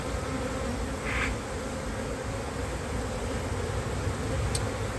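A dense, steady hum of many honeybees buzzing close by on a hive frame of emerging brood, continuous and even, with no voices.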